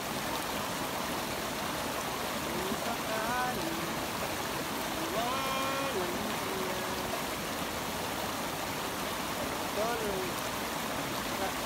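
A creek flows in a steady, broadband wash of running water, continuous and fairly close, with faint voices and a few brief chirpy tones drifting over it.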